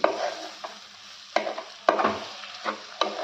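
Chopped onion, tomato and capsicum sauté over a high flame for masala pav, a soft steady sizzle broken by several sharp scrapes and knocks of a spatula stirring in the pan.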